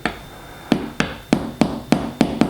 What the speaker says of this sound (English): I'm just gently going to tap that in place